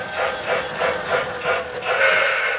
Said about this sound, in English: the locomotive will begin moving forward